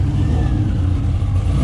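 A Chevrolet Caprice engine revs loud and close, a deep throaty roar held steadily for the whole moment without voices.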